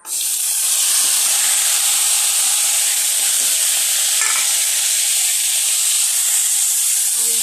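Spice paste of ground dried chillies, assorted spices, garlic and onion hisses and sizzles loudly and steadily after being tipped into a hot wok (kadai), a dense unbroken frying roar with no talk.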